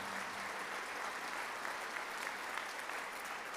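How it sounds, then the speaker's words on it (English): Steady, dense applause from a civic audience at a State of the City address, continuous and even throughout with no voices on top. "I'd like to give all of you a round of applause, too"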